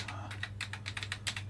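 Keys on an Amstrad CPC6128 home computer undergoing repair being pressed one after another, a dozen or so quick, close plastic clicks at an uneven rhythm over a steady low hum, with no talk.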